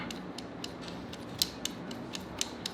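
A threaded ring on a Honda Civic EJ1 coilover is turned by hand, giving faint, irregular metallic clicks and ratcheting ticks over a low background hum.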